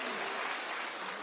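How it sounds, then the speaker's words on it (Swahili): Dense, even applause from a large crowd at a political rally, a continuous roar of many hands clapping at once, fairly distant and steady throughout with no voices rising above it. "Simunipigie makofi."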